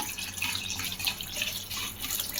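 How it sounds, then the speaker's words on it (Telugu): About a glass of water is poured steadily into tamarind broth while cooking vadiyala pulusu, a steady watery gush that runs unbroken for the whole moment. "ఒక గ్లాస్ దాకా వాటర్ పోసాను."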